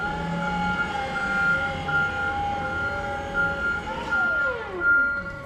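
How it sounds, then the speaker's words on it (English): A forklift moves a Caterpillar D8K part in a repair shop, giving off steady repeated reversing beeps over a continuous engine hum, and a falling whine comes in near the end. "Precision forklift maneuvering."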